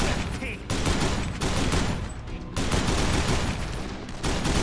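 Rapid bursts of gunfire in the Dead Island video game, loud and close, firing in dense volleys with only brief gaps over several seconds.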